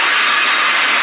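Minecraft nether portal travel sound from the video game: a loud, steady, dense rushing whoosh with no breaks, heard alone.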